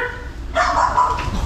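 Dogs bark and whimper inside a small cabin aboard a ferry, a loud burst of yelping and howling that starts abruptly partway through and continues steadily over a low engine rumble.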